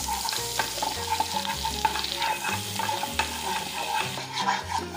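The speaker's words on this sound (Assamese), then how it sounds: "এয়া বাটাৰ আৰু ময়দাখিনি ভালদৰে ভাজি ল'ব লাগিব।" Butter and flour sizzling together in a pan as a roux, a steady close crackle with the repeated scrape and clink of a spoon stirring through it.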